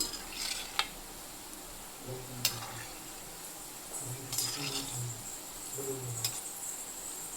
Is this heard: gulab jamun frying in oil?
yes